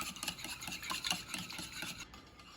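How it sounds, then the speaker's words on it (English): Warm milk and vanilla for waffle batter are whisked in a bowl, a soft, quick rhythmic swishing and light clinking of the whisk, fairly close, with no talk. "and I'm going to whisk it up"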